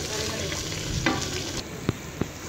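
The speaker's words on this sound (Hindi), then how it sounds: "अब मैं इसके अंदर चिकन डाल दूंगी जो मैंने पहले निकाल दिया था, और इसे अच्छी तरह तेज़ आंच पे भून लूंगी" Chicken pieces sizzle and fry on high heat in a pan for a curry, with a constant loud hiss and occasional scrapes and knocks of a stirring spoon.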